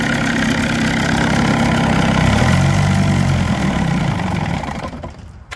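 A 1979 Johnson 35hp outboard motor with electric start keeps running when it should shut off, a steady loud mid-pitched engine drone with slight knocking that fades and tapers off near the end.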